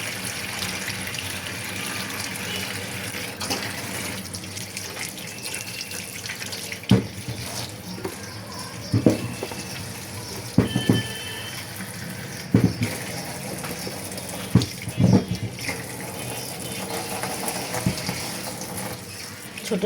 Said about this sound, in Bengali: ভালো করে ধুয়ে নিচ্ছি শুধু বালু।